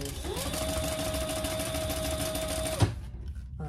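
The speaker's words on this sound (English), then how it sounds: "jelly vinyl from Lauren Marmino, and it sews beautifully" Sewing machine stitching jelly vinyl with a funky floral print, a steady close whirring hum that runs for about three seconds and then stops abruptly, leaving quiet with a brief click.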